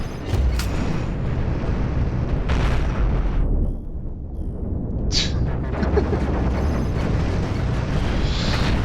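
Ship battle in the video game Cosmoteer, with dense, continuous rumbling explosions and bursts layered throughout, a brief dip midway before the booming and crackling resumes.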